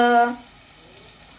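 Chopped onion from the village and garlic drop into hot oil, giving a brief tonal ring that gives way to a soft, steady sizzle with small crackling pops.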